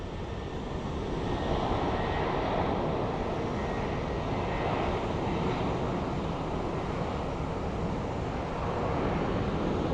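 A British Airways airliner, a replacement for the Boeing 747 and 777, at Sky Harbor International Airport at night, its engines a steady broad roar that holds even and fairly loud throughout, with a light rush like wind.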